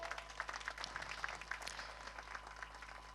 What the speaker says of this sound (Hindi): खुदा के जलाल के लिए आप तालियां बजा सकते हैं।